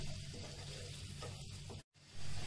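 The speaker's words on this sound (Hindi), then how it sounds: "प्याज को हमें ज्यादा ब्राउन नहीं करना है, इसे हल्का पिंक कलर तक ही भुनना है।" Chopped onions frying in a pan for malai kofta, a soft steady sizzle close by, broken by a brief silent gap before it returns louder.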